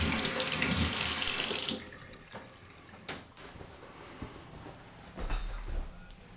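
Hands are washed under a running tap over a sink: a loud, steady gush of water that stops after a couple of seconds, followed by quieter drips and splashes.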